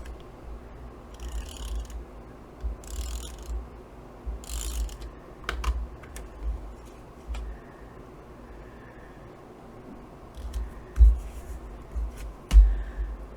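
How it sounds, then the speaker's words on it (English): Tape pulled from a roll and pressed down while making a journal with flip pockets, heard as a few quiet bursts of ripping and peeling plus scattered soft clicks and taps in a calm room. "some people just like the sound of this tape"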